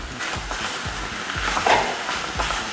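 Onion hits a hot pan with meat and sizzles steadily while a utensil stirs and scrapes in quick, repeated strokes, close and fairly loud, with no talking.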